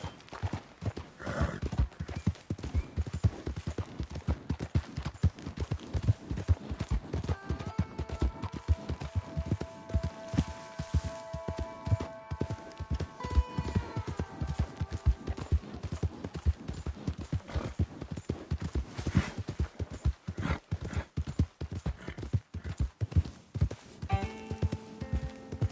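A horse galloping in the video game Red Dead Redemption, with fast, continuous, driving hoofbeats close up for the whole stretch, a short whinny partway through and music-like tones in the background.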